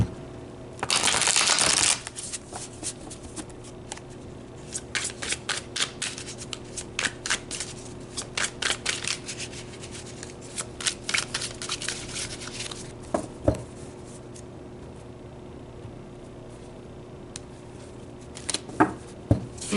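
A deck of tarot cards is shuffled close up, beginning with a loud riffle burst and followed by many soft, scattered card taps and slides, with no talking.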